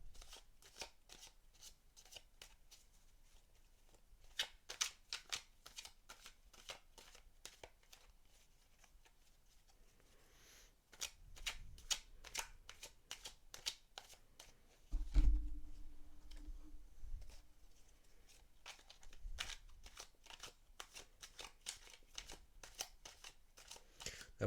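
Tarot cards are shuffled for a reading, with quiet, close bursts of riffling and flicking card snaps, a soft thump partway through, and no speech.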